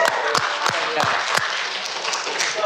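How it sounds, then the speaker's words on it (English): An audience claps for Zhao Zhong as he is called up at the Asia 21 Give and Take Session, a steady wash of applause with sharp individual claps popping through for a few seconds. "Round of applause for Zhao Zhong."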